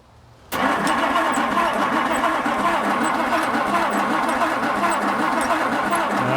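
An old car engine cranks and catches abruptly after a brief quiet moment, then keeps running at a steady, loud idle with a rough, even rumble, close to the listener.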